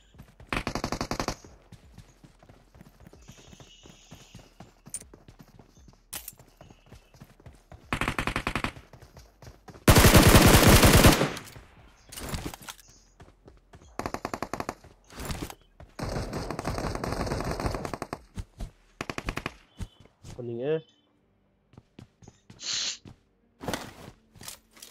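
A video game firefight with loud bursts of automatic gunfire and single shots in irregular clusters, broken by quiet gaps, and one long sustained burst partway through.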